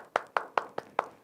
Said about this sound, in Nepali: ल, ताली बजाइदिनुहोस्।